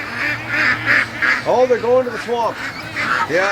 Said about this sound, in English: the geese, they get everybody worked up